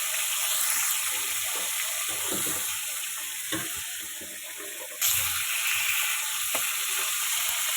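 Fish frying in oil in a pan, a loud continuous hiss and crackle up close, with a sharp clatter midway as the fish is turned and the sizzle surges.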